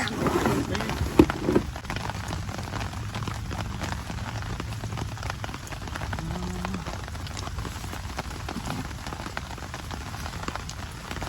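Steady rain falls during a thunderstorm beside a big muddy ditch while fishing, a dense continuous patter on surfaces, with brief sounds of nearby movement near the start.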